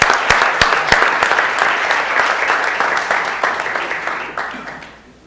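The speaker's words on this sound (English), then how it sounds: "One more time, a round of applause" A round of applause fills a city council meeting chamber, dense steady clapping from the audience with a few sharp nearby claps, fading out toward the end.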